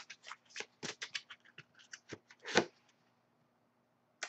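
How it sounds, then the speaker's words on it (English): Close, quiet shuffling of a Wisdom of Avalon oracle card deck by hand: a rapid run of soft papery flicks and taps, one sharper slap, then a pause and a final flick. "As I shuffle the deck"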